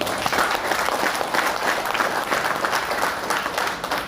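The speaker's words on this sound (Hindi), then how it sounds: "एक बार जोरदार आदरणीय टीसी सर के लिए ताली हो जाए" A crowd breaks into loud, sustained applause, dense clapping filling the whole stretch without letting up.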